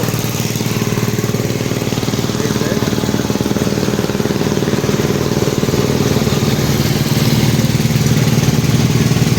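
A shallow tube-well irrigation pump engine runs steadily close by, drawing water for betel leaf fields in Chuadanga; a loud, continuous rhythmic putter holds evenly throughout.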